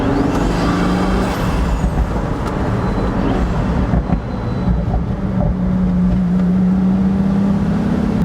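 Pagani Huayra Roadster driving with its roof off on a sunny day, a steady loud engine drone and road roar from inside the open car, with a low engine note rising toward the end.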